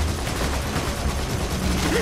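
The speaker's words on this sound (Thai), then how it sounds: "ดูท่ายิงปืน" Rapid gunfire from the video game Borderlands 2 crackles continuously as a dense, steady barrage through the whole stretch.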